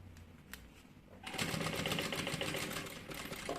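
A sewing machine stitching a bag starts up after a short pause and runs in a steady, close, rapid rhythm for a couple of seconds, with faint talk underneath.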